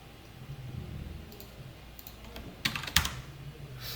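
Close computer keyboard typing as short text is entered into a form, soft rapid clicks over a steady background hum, with a couple of sharper key strikes near the end.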